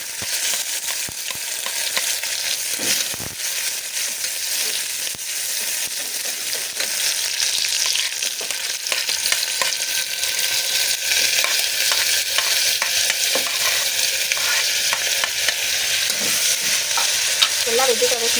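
Sliced onions frying in hot oil and ghee in a cooker, a steady bright sizzle running continuously with occasional stirring scrapes and clicks.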